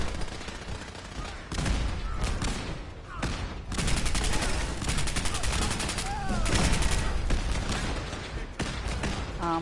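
Gunfire in the video game Fallout 4, with bursts of rapid shots and sustained volleys coming in waves, loud and close, mixed with game effects and some talk.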